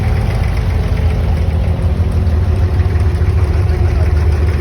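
A Dubai abra boat's engine idles loudly and close by, a steady low throbbing drone with a faint knock running through it without a break.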